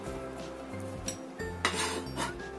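A utensil scrapes and rubs in a bowl while ingredients are mixed into mashed tofu for tofu meatballs (bakso tahu). The scraping comes in short, close, rasping strokes.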